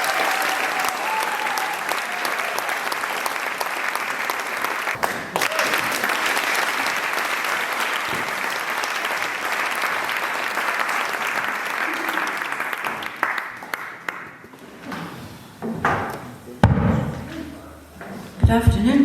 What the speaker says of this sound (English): would you put your hands together, a really big round of applause, please